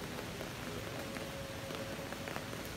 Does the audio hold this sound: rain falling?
yes